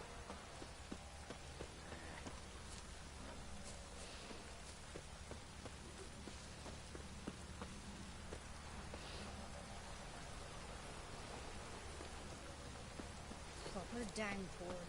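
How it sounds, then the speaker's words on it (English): Steady rain in The Witcher 3: Wild Hunt pours down in a continuous hiss, with scattered drops pattering on surfaces and faint background sounds mixed in. "Proper downpour this is."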